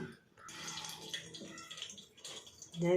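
Soaked raw white rice is washed by hand in water, giving soft swishing and splashing sounds that are close and fairly faint.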